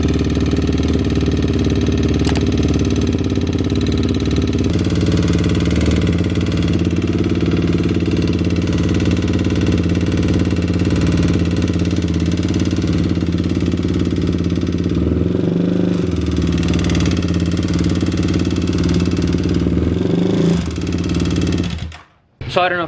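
A Kawasaki KLX351 motorcycle engine idling steadily with a rhythmic knocking tick, loud and close for about twenty seconds before cutting out abruptly, with someone talking over it.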